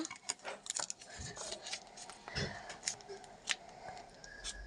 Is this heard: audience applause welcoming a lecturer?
no